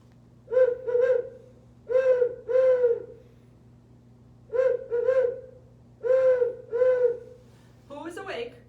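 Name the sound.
voice imitating a great horned owl hoot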